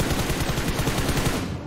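Rapid automatic video game gunfire hammers out in a fast, even stream of close, loud shots throughout the brief stretch, without pause.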